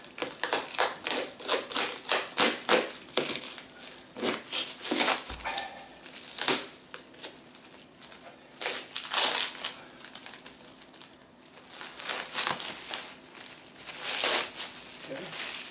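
A knife cutting open a thick FM radio transmitter cable, with repeated close, crisp crunching and crinkling strokes in bursts, loud and rhythmic, with some talking mixed in.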